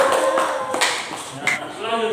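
Classroom of students clapping hands briefly, a short burst of scattered claps with a few sharp taps standing out, fairly close and moderate in level.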